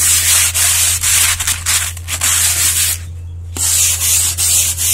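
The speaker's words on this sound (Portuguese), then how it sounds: "lixar por fora, dar uma lixada, e lixar por dentro." Sanding a 3D-style cement vase by hand, a loud, steady scratchy rasp of abrasive on cement in repeated strokes, with a brief pause near the middle before the rubbing resumes, no voices.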